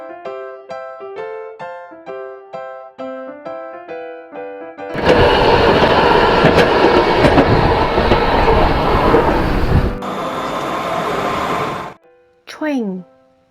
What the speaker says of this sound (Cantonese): Train 火車。